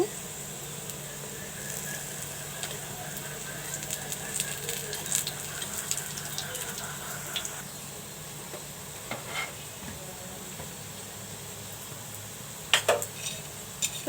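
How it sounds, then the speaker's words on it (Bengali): Fried shrimp fritters made with rice flour are lifted out of a pan of sizzling oil, with a steady frying hiss, scraping and stirring, and a few sharp metallic clinks of a utensil near the end. "বড়াগুলো উঠিয়ে নিচ্ছি"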